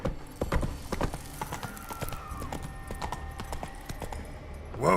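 Roach the horse's hooves trot in The Witcher 3, a steady close clip-clop with a brief whinny-like tone, ending in a louder swell.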